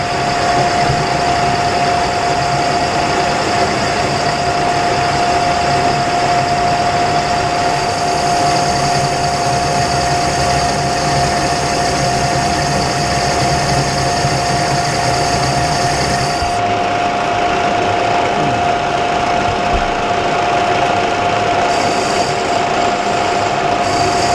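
A lathe cuts round-belt grooves into a pulley. A steady mechanical drone with a constant whine runs throughout, and it eases slightly near the end. No one speaks.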